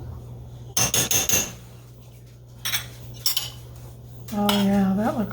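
A metal utensil fluffs cooked Spanish rice in a pot, with bursts of close, bright clinks and scrapes against the pot, pauses between them, and a voice near the end.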